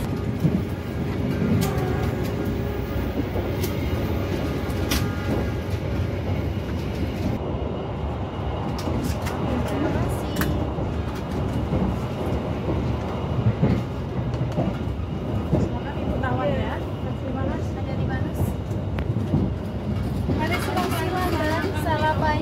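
Steady rumble and rattle of a moving passenger train in Thailand, heard from inside the carriage, with continuous low roar and faint clicks running throughout under people talking.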